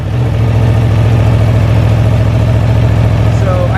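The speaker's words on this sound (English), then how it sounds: "I think I have to turn the bike on." A 2018 Aprilia Tuono 1100 Factory motorcycle engine idles loud and close, a steady deep throb that holds evenly for the whole stretch.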